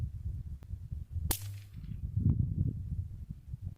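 A single sharp rifle crack from a Savage Mark II .22LR fired at a long-range target outdoors, with a brief tail fading over a steady low background rumble; no talking.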